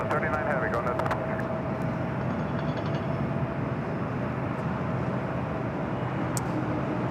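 China Airlines Boeing 777 at LAX, a steady loud jet engine roar that fills the whole stretch, with faint radio chatter in the background.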